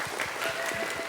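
Audience at a high school magic show clapping, a brief patter of scattered claps at moderate distance.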